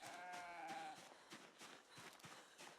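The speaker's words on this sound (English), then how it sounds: "it sounds like someone's bothering our sheep" Sheep bleat in the Project Zomboid survival game: a clear wavering bleat opens the clip and dies away after about a second, followed by softer scattered clicks and background game noise.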